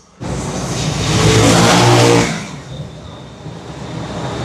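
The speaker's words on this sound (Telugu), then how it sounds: "ఇప్పుడే మా వెహికల్ కూడా వచ్చేసింది, ట్రైన్ ఆకారంలో ఉండే ఒక ట్రక్ లాంటిది" A train-shaped tourist road train truck drives up on a street in San Marino, its engine rising loud and close, peaking, then easing off into a steady lower rumble.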